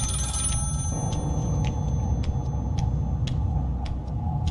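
A payphone at a swimming pool rings in a video game, short repeated bursts at a steady rhythm, fairly faint over a constant low hum, with no voices.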